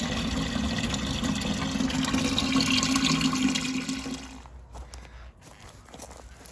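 Water pours steadily from an old watering can found in overgrown brush, a close, rushing splash for about four seconds that then stops, leaving quiet outdoor background with a few soft sounds.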